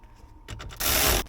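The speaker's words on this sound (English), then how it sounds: "Get that set in place and put 4 screws in." A screw is driven in during a Sync 3 head unit install in a 2011-2016 Ford Explorer dash, a brief loud whirring burst of a power driver after a few faint clicks, close up and with no voices.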